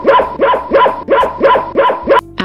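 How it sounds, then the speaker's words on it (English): An Appenzeller dog barks about seven times in a quick, even rhythm, each bark sharp, loud and close, with nothing else heard between them. "Appenzeller Dog."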